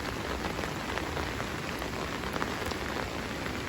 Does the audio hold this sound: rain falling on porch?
yes